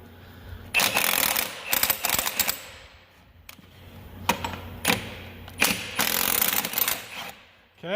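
Ratchet loosening bolts on a tilting truck cab: several bursts of rapid, close mechanical clicking separated by brief pauses, with a few sharp metallic knocks between them.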